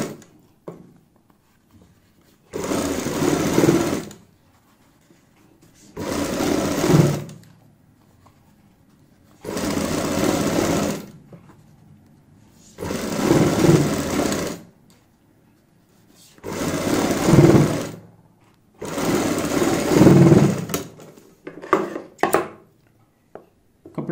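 A sewing machine stitching a folded neck piece of fabric, running in six roughly even bursts of a few seconds each with short pauses between them, close and moderately loud, with no talk.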